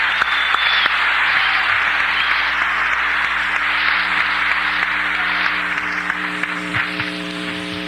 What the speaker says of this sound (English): Bring him on with a round of applause.